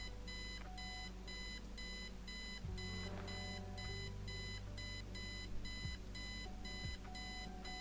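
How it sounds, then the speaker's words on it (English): Electronic alarm clock in the detective adventure game Kathy Rain, a harsh, rapid repeating beep that drones on steadily and quietly with no pause. "Eileen's obnoxious alarm clock."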